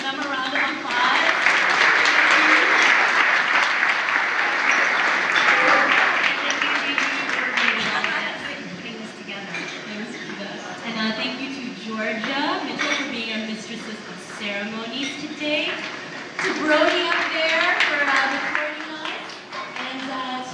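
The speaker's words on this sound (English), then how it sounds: "So I just want to give them a round of applause." Applause from an audience after singers perform a Christmas song, loud at first and then thinning, with talk and scattered voices mixed in.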